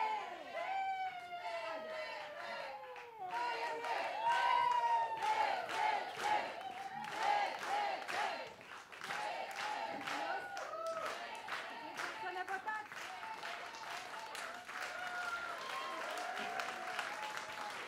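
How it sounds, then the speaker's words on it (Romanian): At a live comedy show in a Bucharest pub, an audience bursts into sustained clapping with cheers and whoops, the dense applause continuing throughout, with voices mixed in. "Aplauze, doamnelor și domnilor!"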